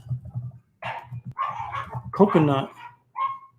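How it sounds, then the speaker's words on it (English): Dogs wrestling and barking indoors upstairs, with several short barks and yips scattered under nearby conversational talk. "My dogs have come upstairs. They're wrestling."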